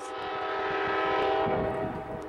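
A train passing close by on a railway line, a steady loud rolling rumble with a sustained horn-like tone throughout, and no one talking.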